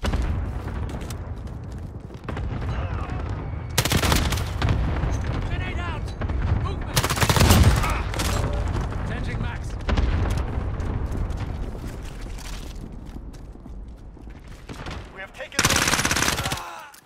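Gunfire in a shooter video game pours out in rapid automatic bursts and sharp single shots, loud and close, with heavier booms breaking in now and then, all over continuous battle noise.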